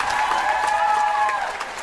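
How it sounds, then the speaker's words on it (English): A comedy club crowd breaks into brief, even clapping with some murmuring, a full, dense patter lasting about two seconds. "Clap if you've seen a ghost."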